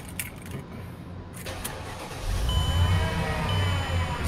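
A Mercedes-Benz E55 is started with its key: a brief starter crank catches into a steady, close engine idle that hums on alone.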